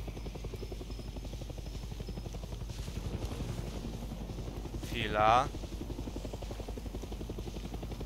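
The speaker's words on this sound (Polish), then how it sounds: "O, leci jakiś helikopter." A helicopter passes in the Far Cry video game, its steady rotor chop droning throughout at moderate level, with a brief rising whine near the middle and a short spoken word over it.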